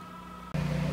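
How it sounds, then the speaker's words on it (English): A 20 kilowatt whole-house standby generator running during a power outage, heard as a steady close engine drone with a strong low hum that suddenly swells louder partway through as if the load or engine note changes. "So that's the sound of the generator you hear."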